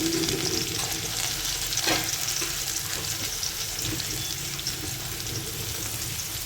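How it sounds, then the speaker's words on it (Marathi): Onion frying in oil in a kadhai gives a loud, steady sizzle close up, with faint stirring scrapes throughout and no talk. "आता आपण यात कांदा टाकून घ्यायचा आहे."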